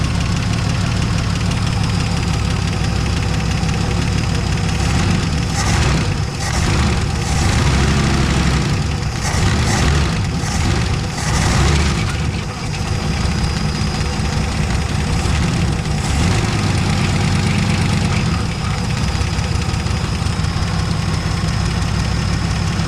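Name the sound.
car engine idling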